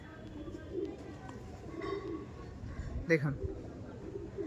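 Andhra pigeons coo in low, rolling calls close by while someone talks over them, with a short sharper sound near the end.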